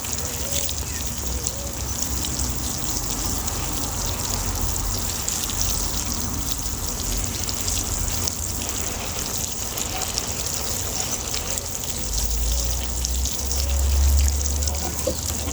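Water trickles steadily into a garden well, a continuous close splashing and dribbling with a low rumble swelling near the end.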